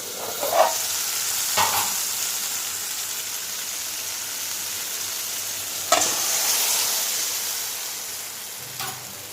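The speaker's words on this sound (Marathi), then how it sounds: "फोडणी घालायची आणि फोडणीचा वास जाऊन मग लगेच उकळून झाकण घालायचं." Steady sizzle of tempering spices frying in hot oil, with a few sharp sputters and clinks breaking through the continuous crackle.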